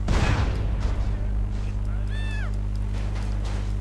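An explosion goes off in GTA San Andreas gameplay, a sharp loud boom at the start followed by a rumbling decay over steady engine drone, with a short rising-falling whine midway.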